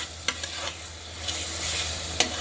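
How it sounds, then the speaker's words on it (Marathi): Marinated prawns fry and get stirred in masala in a pan, a steady sizzle with a few soft spoon scrapes and taps, close and alone. "ह्याला चांगलं फ्राय करायचं आहे"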